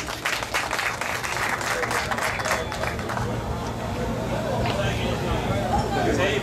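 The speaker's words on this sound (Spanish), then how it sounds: "Fuerte el aplauso para Miguel Luriano" Crowd applause in a stadium at the opening ceremony of Expo Macorís 2023 in San Pedro de Macorís, greeting the president of CONALECHE, with steady broad clapping and crowd noise throughout.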